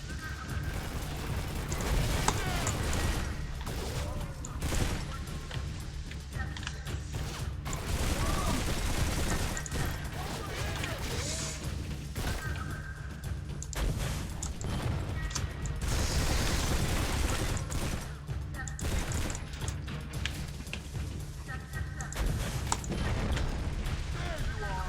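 Explosions and gunfire from the video game Turok (2008) boom and crackle over a dense game soundscape, with bursts recurring throughout. A voice talks over the din.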